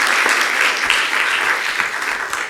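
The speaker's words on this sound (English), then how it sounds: "if we can just hold the applause until the end" Audience applause at a regular city commission meeting, a dense, steady patter of many hands clapping close by that fills the whole stretch at even strength with no talking over it.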